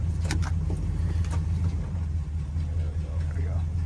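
Old muscle car engine pulling out onto the road, a low steady rumble close by with a few faint clicks and knocks on top.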